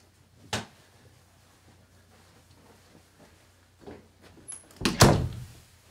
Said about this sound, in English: we're going to go ahead and close the curtain